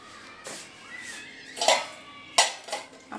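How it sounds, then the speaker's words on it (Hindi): Tea dishes and utensils are gathered up in a home kitchen, giving a few sharp clinks and clatters of metal and crockery at uneven intervals, close and fairly loud. "अब पहले बर्तन उठाती हूँ अपने चाय।"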